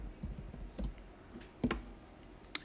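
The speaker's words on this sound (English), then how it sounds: "I'm going to type video." Scattered, quiet keystrokes are typed on a computer keyboard, a few soft taps followed by sharper isolated clicks at irregular intervals, close by in a quiet room.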